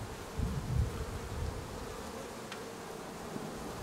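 Bees buzz steadily around an open beehive frame during a hive rescue, a dense close hum of many insects with no talking.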